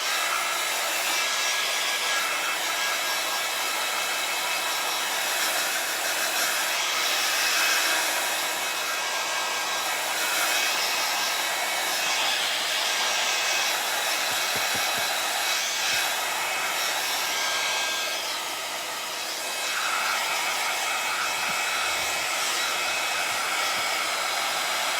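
Hair dryer drying wet paint on a flower painting, a steady loud whooshing blow that runs continuously for the whole stretch with only a brief dip, no talking.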